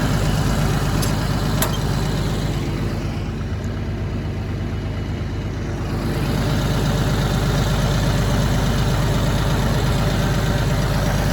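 A tractor engine drones steadily in low gear while pulling a tree stump through a snatch block pulley rig, a loud, continuous, close rumble with no talking.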